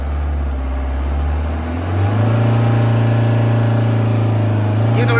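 A Tata Sumo's engine idles, then revs up and holds a loud, steady higher drone close by, with a voice speaking over it.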